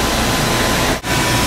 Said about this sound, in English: And third, and most importantly, the hairdryer.